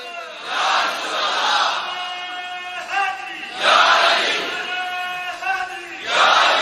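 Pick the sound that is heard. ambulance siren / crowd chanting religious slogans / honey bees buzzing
crowd chanting religious slogans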